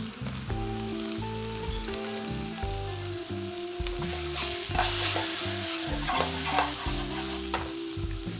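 Asparagus sizzling and frying in a pan while being stirred, a steady close hiss with scraping under a background of music, no talking.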